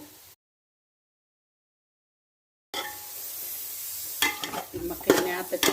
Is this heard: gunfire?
no